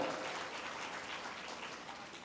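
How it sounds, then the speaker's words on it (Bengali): Audience applause at a motivational talk for university students: dense, steady clapping fills the whole moment at an even level, with no voices over it. "আমরা আরেকটি করতালির মাধ্যমে তাদেরকে অভিবাদন জানাই"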